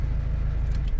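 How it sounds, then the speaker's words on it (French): Renault Twingo 2 car engine running at a steady idle, a continuous low rumble close by, with a brief sharp rattle at the very end and no talking. "Le véhicule démarre et tourne bien."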